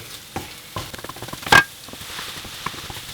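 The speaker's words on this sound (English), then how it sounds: "this is just a great way to stir fry without using extra oil" Curry fried rice being stir-fried without oil in a pan, a soft dry patter and scraping of grains and spatula with one brief louder scrape, close and quiet with no talk.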